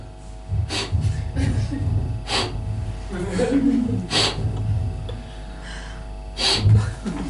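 Someone imitates repeated sniffling, several sharp nasal snorts spaced irregularly, with breathy sounds between them.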